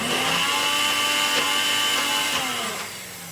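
Kitchen blender whirring through a quick blend for a feta and tomato chicken dish, a loud, steady motor whine with a slight pitch wobble that eases off and slows near the end.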